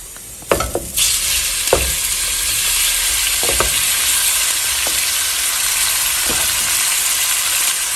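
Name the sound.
strips of beef steak frying in a pot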